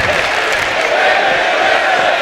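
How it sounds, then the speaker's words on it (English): A wrestling crowd at a live match in Bakersfield chants and cheers in a steady, dense roar that fills the whole moment without letting up. "As the crowd chants, "This is wrestling," I'd have to agree"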